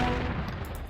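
An anti-aircraft gun in Panzer Corps 2 fires a dense, continuous rumbling burst lasting the whole moment, loud and heavy with low-end boom and no talking.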